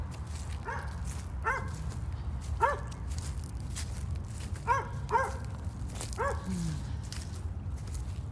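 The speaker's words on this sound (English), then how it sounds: "Our neighbor's dog," A neighbor's dog barks outdoors on a quiet morning near the woods: several sharp barks, some in quick doubles, spaced a second or two apart, at moderate distance over steady ambient hiss.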